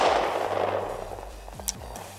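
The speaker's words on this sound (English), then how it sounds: "Let's shoot it one last time. The rubber band Glock." A Glock pistol with rubber bands packed in the chamber fires a single loud, close shot. A sharp crack is followed by a fading boom and a faint metallic click near the end.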